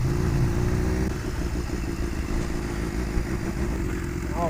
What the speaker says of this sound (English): Man, that exhaust sounds great.